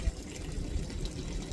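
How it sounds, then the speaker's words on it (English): Gray water drains from the spout of an RV tank in a steady, low splashing and gurgling stream that runs continuously and fairly softly. "that right there is the draining of my gray water tank"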